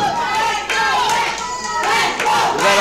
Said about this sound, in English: We got a Let's Go Max shout going.